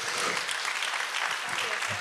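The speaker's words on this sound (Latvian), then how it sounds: "Aplausi" Audience at an entrepreneurship event in Latvia claps in a dense, steady burst of applause, fairly full and even for the whole stretch, with no voice standing out.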